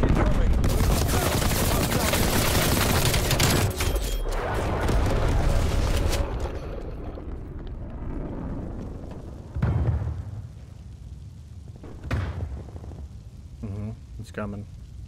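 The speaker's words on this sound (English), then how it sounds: "Enemy napalm strike incoming." Call of Duty Cold War gameplay with an enemy napalm strike: dense rumbling fire and booming blasts that gradually thin out into scattered gunshots and bursts, with voices calling out across the mix.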